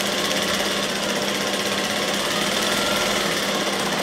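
A sewing machine runs continuously and loudly, double-stitching a blouse with a dense, even mechanical whirr and no pauses.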